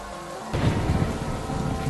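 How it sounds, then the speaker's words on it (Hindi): Steady rain sets in abruptly and keeps pouring as a dense, loud hiss with a low rumbling undertone, continuous and close. "शॉन बिल्कुल भी नहीं चाहता कि उसका टॉयलेट बारिश की वजह से भीग जाए"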